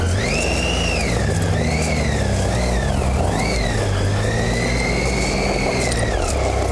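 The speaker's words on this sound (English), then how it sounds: "Look at that bike just moving that dirt." A motorcycle churning through loose dirt on a trail ride toward Roosevelt, Idaho, its engine revving and bogging in uneven surges, loud and close with a rough rumble underneath.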